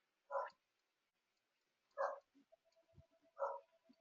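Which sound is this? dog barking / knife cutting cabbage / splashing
dog barking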